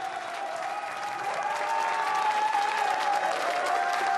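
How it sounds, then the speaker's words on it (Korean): Audience applause at a flower bouquet presentation during a 2022 election-night broadcast event, steady dense clapping from a crowd that swells slightly and continues throughout. "큰 박수로 축하해 주시기 바랍니다."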